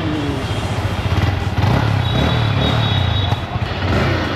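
A brand-new motorcycle engine starts and settles into a loud, close idle, with a rhythmic putter and a slight rise partway through, and no clear talking.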